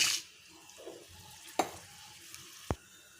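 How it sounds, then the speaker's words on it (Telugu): Mustard seeds, cumin and dried red chillies go into hot oil for a moong dal tempering. A faint sizzle is broken by a few sharp pops and clinks of a spoon against the pan, close and sparse. "ఆవాలు జీలకర్ర ఎండుమిర్చి అండి వేసేసుకుందాం ఆయిల్లో"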